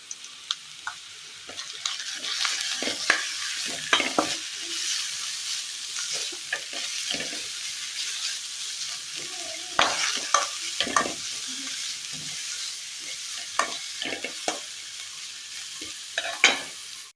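Chopped green chillies and beans sizzle with onion in a hot pan, a steady close frying hiss broken by repeated scraping stirs and clinks of a spoon.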